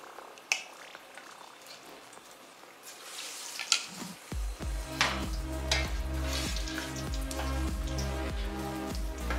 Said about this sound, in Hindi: सारे बॉल्स को डाल ले रहे हैं डिप करके और इससे गोल्डन ब्राउन होने